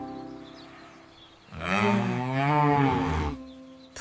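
A cartoon cow lets out one long, loud, wavering moo after a quiet pause, close and clear, ending just before the clip closes.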